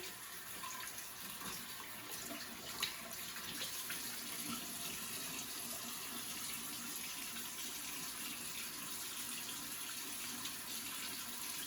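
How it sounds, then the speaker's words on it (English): Warm tap water runs steadily into a bathroom sink while someone washes their face during an at-home facial, a continuous close splashing stream with no talking. "And I'm gonna use some warm water and wash my face again."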